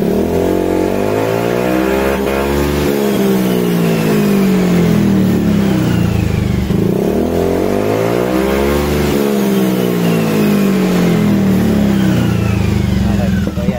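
A Honda Zoomer X scooter with a repaired fuel injector is throttled up and down twice, its engine pitch sweeping high and falling back smoothly without stalling, loud and close.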